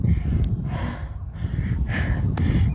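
A person breathes heavily after a walking workout: several loud, close, rough breaths and gasps in quick succession with no talking.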